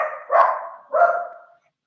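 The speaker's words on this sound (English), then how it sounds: "sorry, my dog's barking" A dog barks twice nearby, two loud, drawn-out, slightly whining barks about half a second apart, heard alone in an otherwise quiet room.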